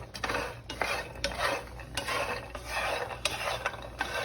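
A utensil stirring spiced pecans in a hot pan, continuous scraping and clattering of nuts against the pan with rhythmic sweeps, close and steady without voices.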